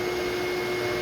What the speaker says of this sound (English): Is the vacuum sucking or blowing?